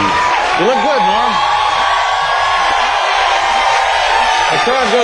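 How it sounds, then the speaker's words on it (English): A studio audience on David Letterman's show cheers, whoops and yells for Norm MacDonald's entrance, a loud, continuous roar with rising and falling shouted whoops over the crowd noise. "The crowd goes crazy."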